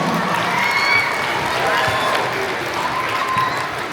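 An audience at a Tibetan Losar celebration at an American school applauds and cheers, with steady dense clapping and children's shouts forming a continuous crowd roar throughout.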